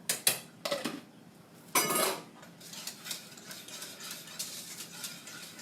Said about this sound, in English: keep stirring it so it doesn't clump together on you